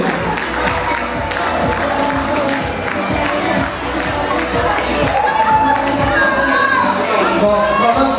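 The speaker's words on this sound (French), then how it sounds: "Les applaudis plus fort que ça, s'il vous plaît." Crowd at a village festival queen election in Aire cheering and applauding the candidates, a steady dense roar of clapping and shouts with children's voices mixed in, sustained throughout.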